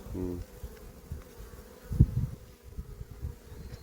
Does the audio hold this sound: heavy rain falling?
no